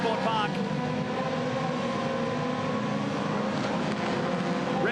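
Aussie Racing Cars revving hard on the grid at the race start at Sydney Motorsport Park, a loud, continuous high-pitched engine drone from several cars held steady at high revs.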